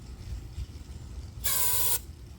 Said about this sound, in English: I'm going to use a little carb spray.